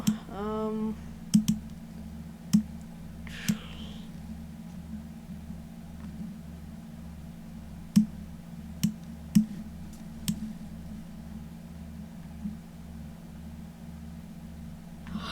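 Scattered computer mouse clicks, sharp and close, a few single and double clicks spread over a steady background hum, with long quiet gaps between them.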